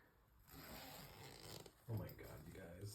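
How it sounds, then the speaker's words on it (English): A zipper being closed, a couple of short scraping zips heard close and fairly quiet, with speech around them. "I closed the zipper."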